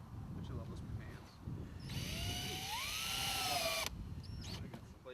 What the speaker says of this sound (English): then put screws in this to stay